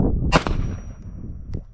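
A single sharp shot from a WMD Beast AR15 pistol cracks loudly outdoors with a metallic ring, followed about a second later by a fainter distant ping from a steel popper target.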